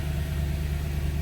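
Mercedes-Benz E63 AMG engine idling just after a cold start, a steady low rumble with a faint, even pulse, heard alone at moderate level.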